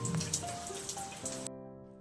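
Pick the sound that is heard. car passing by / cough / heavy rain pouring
heavy rain pouring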